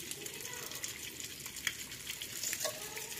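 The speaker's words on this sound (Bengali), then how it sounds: "চিকেনটা রান্না করবো একটু মেথির ফোড়ন দিয়ে" Chicken frying in a pan with a fenugreek seed tempering gives a steady, close sizzle that holds through the whole stretch, with a few brief stirring bumps.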